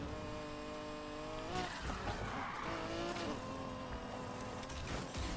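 A car in the racing game Need for Speed Heat skids under too much e-brake, its tires squealing in a long sustained screech over a steady engine drone, loud and close, with no talking.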